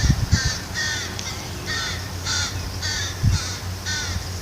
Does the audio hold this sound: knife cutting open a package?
no